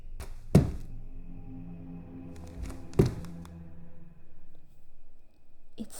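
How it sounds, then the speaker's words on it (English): Heavy thuds from an upstairs floor like stomping feet, two strong booming impacts a few seconds apart with softer knocks between, muffled and indoors over a low steady background hum. "It sounded like someone was stomping their feet upstairs."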